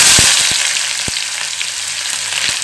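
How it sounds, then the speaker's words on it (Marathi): Thinly sliced onion frying in oil over low heat for palak pulao, a loud steady close-up sizzle with a few soft knocks of a spoon against the pan early on, no speech. "मंदाचेवरती कांदा तेलामध्ये छान फ्राई करून घेऊयात"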